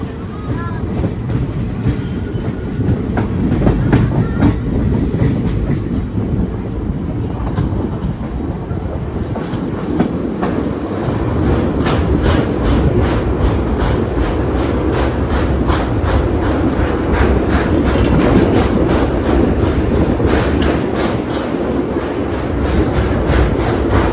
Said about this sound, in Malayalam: 20 km വെച്ചാണ് നമ്മുടെ വണ്ടി പോകുന്നത്